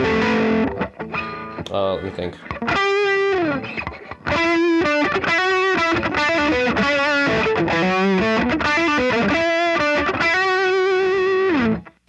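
Electric guitar runs through an Effects Bakery Bagel overdrive and distortion pedal, playing crunchy, sustained lead lines and bends that are loud and close, with a brief spoken voice near the start.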